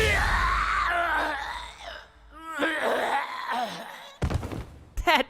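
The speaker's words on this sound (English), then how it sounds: "That death noise." Character death cry in the video game Tales of Arise on PS5: a loud, drawn-out anguished scream and groan, then a breathy gasp, followed by a couple of short sharp thuds.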